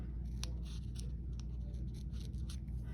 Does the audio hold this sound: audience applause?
no